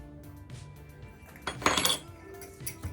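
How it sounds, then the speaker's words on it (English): Half a teaspoon of baking soda goes into a mixing bowl from a measuring spoon, with a light clink of metal against the bowl and a short bright rattle in the middle, close and fairly quiet, no speech. "We're gonna put in a half a teaspoon of baking soda"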